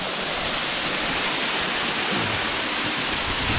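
Loud, close, continuous roar and hiss of a waterfall cascading in the Wichita Mountains north wilderness, with falling water filling the sound evenly and no voices.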